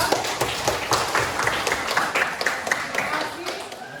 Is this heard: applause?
yes